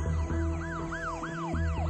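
Ambulance siren wailing in a fast, regular rising-and-falling cycle, steady and moderately loud over a low background rumble.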